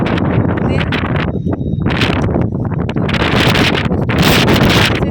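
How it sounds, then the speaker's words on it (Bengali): Strong wind gusting ahead of Cyclone Remal, a loud, continuous broadband roar that swells and eases, with rustling like leaves and branches tossing close by. "তো প্রচণ্ড পরিমাণে হাওয়া দিচ্ছে"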